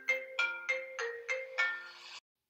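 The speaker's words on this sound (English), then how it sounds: "All right, sorry about that. I got a phone call." A phone ringtone for an incoming call plays six short, evenly spaced electronic chimes, loud and close with nothing else heard, then cuts off abruptly.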